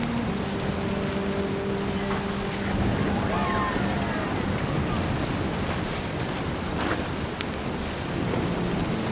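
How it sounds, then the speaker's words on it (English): A thunderstorm in the video game What Remains of Edith Finch: steady loud rain with low rolling thunder beneath it, a continuous wash of sound throughout. "The thunder sounded much too close and full of angry power."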